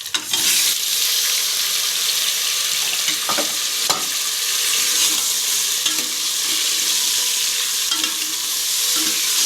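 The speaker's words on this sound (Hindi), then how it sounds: "प्याज को अच्छा सा फ्राई करेंगे" Onions frying in oil with cumin in a pan, with a dense, loud sizzle up close and a few soft stirring scrapes, no voices.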